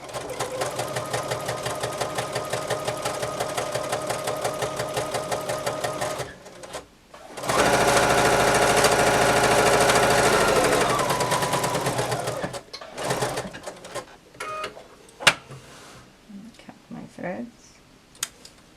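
Sewing machine stitching a quarter-inch seam on a fabric face mask, a steady close mechanical whir that runs, pauses, then runs again faster before trailing off into handling clicks.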